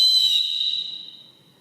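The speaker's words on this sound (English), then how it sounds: "Here's a whistle." A whistle from an old survival kit is blown once, producing a single loud, piercing shrill tone that fades away over about a second with no talking.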